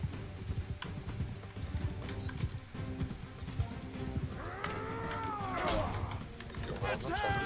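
Horse hooves clatter steadily in the video game Mount and Blade II Bannerlord during horse archery, with a whinny rising partway through over busy battle noise.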